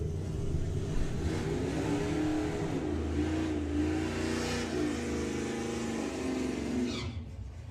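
A hot rod drag car pulls hard down the strip at Santa Pod Raceway, its engine roaring continuously from a distance and rising in pitch as it accelerates, then fading slightly at the end.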